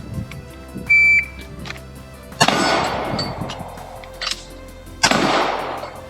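Pistol shots fired during a timed shooting drill with gloves on, heard as two loud sharp cracks each followed by a ringing echo, preceded by a short electronic start beep.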